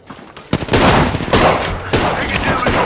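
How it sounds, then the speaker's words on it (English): Rapid gunfire in Apex Legends played on Nintendo Switch, loud dense bursts of automatic shots starting abruptly and continuing in overlapping volleys. "The enemies are shooting at me."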